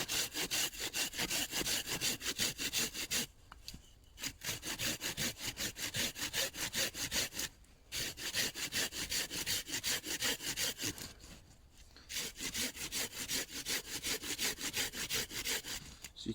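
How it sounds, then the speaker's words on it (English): A Laplander folding saw cuts through a log at a snowy bushcraft camp. Close, rhythmic rasping push-pull strokes run steadily, broken by a few brief pauses. "I've went and switched from the big saw to using the Laplander."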